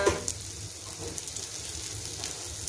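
Prawns fry in a pan with a soft, steady sizzle, a faint crackling hiss that runs evenly throughout.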